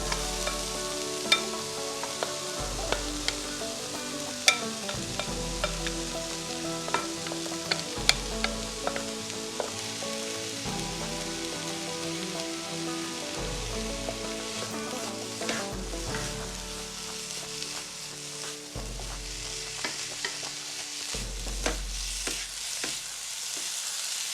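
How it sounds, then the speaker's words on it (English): Cauliflower rice fries in a pan with a low constant sizzle and scattered clicks of stirring, accompanied by steady background music with a repeating bass pattern. "we're going to add in the cauliflower now"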